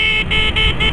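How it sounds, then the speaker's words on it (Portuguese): A car horn honks in a quick series of short toots, loud and close, over a low engine rumble. "tem buzina"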